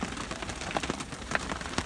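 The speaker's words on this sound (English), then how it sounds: "Hear that rain hitting the canvas?" Rain patters steadily on a canvas overhead, a dense close drumming of drops with a few louder taps scattered through.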